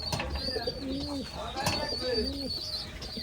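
Pigeons of an old Khulna breed coo softly and repeatedly close by, with faint wing flutters and chirps and a voice talking in the background.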